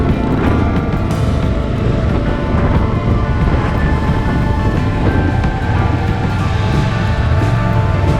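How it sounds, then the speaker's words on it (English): Strong wind roars steadily against the microphone during a motorcycle trip in Tasmania, a dense, continuous rumble with gusty buffeting throughout and no voices. "has anyone noticed how windy it's getting?"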